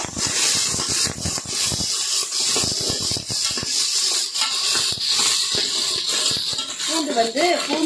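Shallots, garlic, curry leaves and dried red chilies sauté in hot oil in a pan, giving a loud, steady broadband sizzle throughout with scattered crackles, while a voice talks over it.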